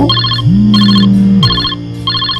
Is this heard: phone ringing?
yes